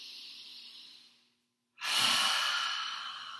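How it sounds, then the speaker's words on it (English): A deep breath during a wall yin yoga class: a long, soft airy exhale fades to a brief silence, then a strong, close inhale swells and slowly tapers. "Deep breath."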